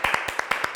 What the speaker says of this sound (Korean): 다들 박수 주세요